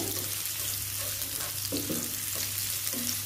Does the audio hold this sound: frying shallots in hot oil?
yes